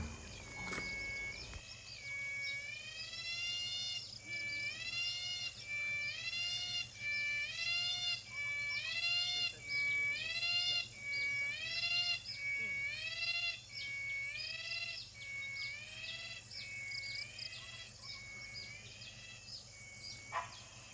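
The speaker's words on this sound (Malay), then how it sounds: "bunyi kicauan-kicauan burung" A forest bird at the foot of a hill repeats a clear, rising whistled call again and again at a steady pace in the morning, loud and close, with a quiet background.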